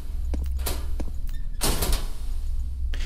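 Door sounds in the Roblox horror game Doors 2, a few quick clunks followed by a louder swishing open and a final thud, with quiet game ambience underneath.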